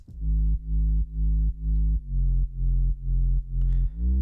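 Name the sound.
simple sub bass line played solo in Ableton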